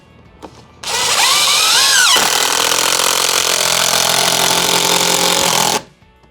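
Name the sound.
power driver plunging a screw into a wooden shelf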